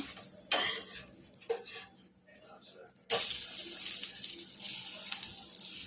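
A besan pudla, a gram flour pancake, flipped on a pan over low heat: a few metallic scrapes and clinks of the spatula against the pan, then a louder sustained sizzle after the turn.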